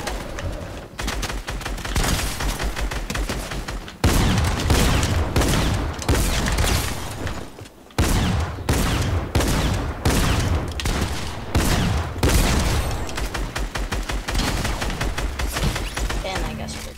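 Dense, loud shotgun fire from a fast-paced shooter video game, with a tech shotgun among the weapons, blasts in rapid, overlapping bursts nearly without pause, as a player talks over the sustained gunfire.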